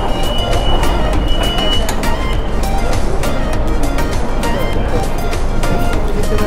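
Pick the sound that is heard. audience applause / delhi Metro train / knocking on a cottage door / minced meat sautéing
delhi Metro train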